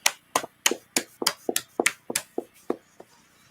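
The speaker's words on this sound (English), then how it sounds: "let's clap it up." A small audience at a meeting in Harlem, New York claps in a quick, uneven burst of about a dozen sharp, close hand claps, slowing and thinning out toward the end, with no voices.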